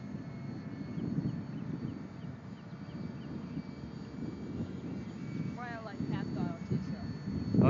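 An AMX electric ducted fan model jet flies at a distance, giving a steady whooshing whine that rises and falls slightly as it passes. People talk nearby over the sound.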